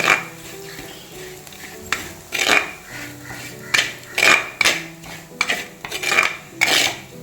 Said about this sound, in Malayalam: ഉപ്പിട്ട് വീണ്ടും ഇളക്കി.